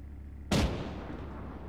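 A single loud gunshot or artillery-style blast rings out in an Arma military mission, sharp onset followed by a long rolling decay into quiet background rumble.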